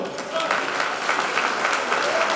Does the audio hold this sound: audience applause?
yes